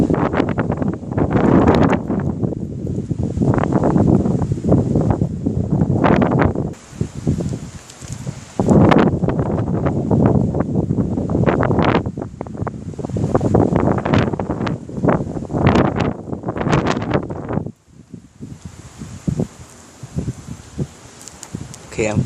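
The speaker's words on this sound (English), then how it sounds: "Gonna gonna get it back into the wind again" Very strong wind from a passing thunderstorm in Corpus Christi, Texas, roars and buffets the microphone in long loud gusts with brief lulls, and someone talks at times over it.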